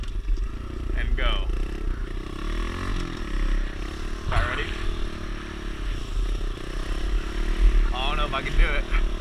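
A pit bike engine runs close by in a steady, rough drone with some clattering and revving, while people talk over it.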